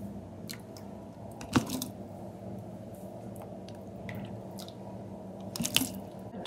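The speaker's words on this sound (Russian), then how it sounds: "Через сито добавляю бульон, чтобы грибы все покрылись." Broth poured through a sieve onto marinated mushrooms gives a steady, soft liquid trickle throughout, with two brief louder splashes; no voices.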